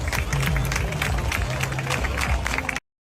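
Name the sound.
crowd clapping to signal a lost child's parents in Brazil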